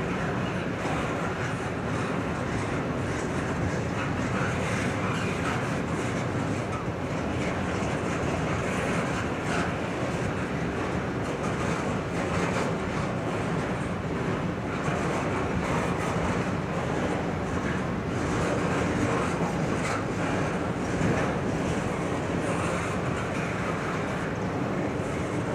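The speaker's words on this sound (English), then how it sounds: "I don't know how many cars this train's got, but it's a lot of it." Long CSX freight train passing close by, a continuous loud rumble and clatter of wagons rolling steadily for the whole stretch, with no voices.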